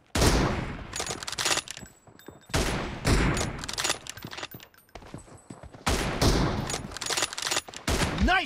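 Rapid bursts of gunfire in the mobile shooter BGMI, several loud volleys separated by short pauses, with in-game voice callouts heard between them.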